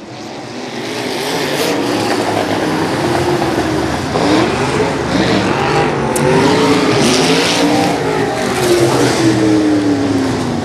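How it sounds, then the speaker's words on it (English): Modified race cars roar around the Macon Speedway oval during a feature race, loud engines rising and falling as several cars pass close together, with some tire noise, steady and continuous throughout. "Three cars going for third. Here they come."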